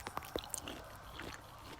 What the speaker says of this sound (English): before taking a small bite of the fruit